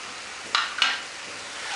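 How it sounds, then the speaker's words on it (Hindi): Spices hiss in a hot pan as they roast for mattar paneer, a steady soft sizzle with two short bright bursts of stirring or scraping, close and without talk. "सारे डाल के अच्छे से इसको भूनेंगे"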